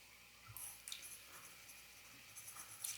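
Faint handwriting during Japanese study, soft intermittent scratches and light taps of a pen on paper, close but quiet, scattered across a few seconds with no talk.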